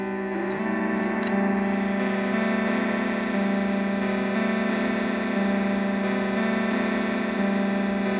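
Saarang Deluxe shruti box, an electronic tambura drone, played off key at a raised tempo: a dense, steady buzzing drone with stacked harmonics and slight pitch wobbles, continuous and loud throughout with no talking.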